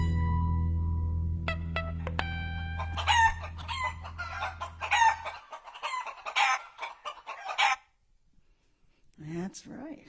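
Farmyard chickens cluck and a rooster crows in short bursts, clear and close, alongside a sung voice that seems to imitate the birds, followed by a brief pause and then more sound.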